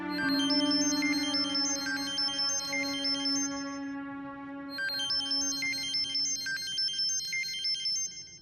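A telephone ringtone keeps playing unanswered in a melodic electronic pattern, two ringing phrases separated by a brief pause, steady and clear with no voices over it.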